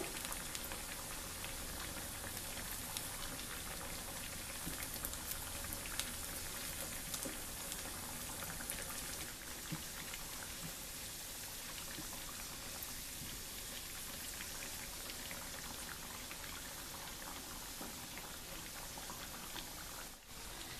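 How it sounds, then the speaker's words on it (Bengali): Pinwheel snacks deep-frying in hot oil, a continuous dense bubbling hiss at moderate distance that stays even throughout, without speech. "এগুলোকে উল্টিয়ে পাল্টিয়ে ভেজে নিতে হবে"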